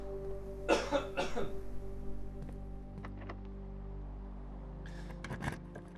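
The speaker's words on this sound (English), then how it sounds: "As soon as I cough." A short burst of coughing, two or three harsh hacks close by, followed by quiet room hum and a softer rustle near the end.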